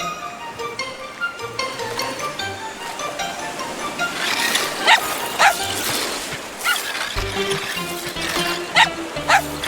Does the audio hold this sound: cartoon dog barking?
yes